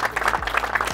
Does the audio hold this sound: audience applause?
yes